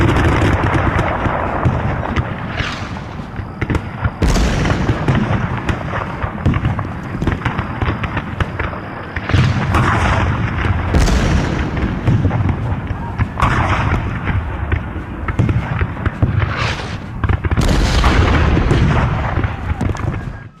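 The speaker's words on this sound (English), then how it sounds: "So the Confederates fired their cannons at the fort." Cannon fire from a Civil War-era bombardment of a fort, repeated heavy booms every few seconds over a continuous rumbling barrage, loud and close.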